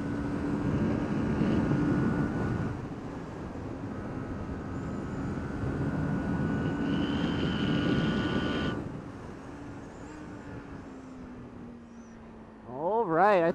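Ninja 400 or Yamaha R3 motorcycle in sixth gear, a steady droning engine note heard from the bike amid wind rush, easing off near the end before a short burst of revving, with occasional talk.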